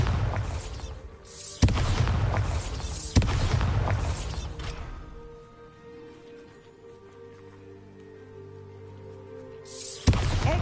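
Bombarda explosion spells cast in Hogwarts Legacy, three loud booming blasts in quick succession, then a quieter stretch of rumbling debris and tones before another burst at the end.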